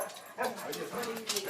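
A dog eager for a car ride gives excited yips and whimpering barks in quick bursts, close by, mixed with a person talking.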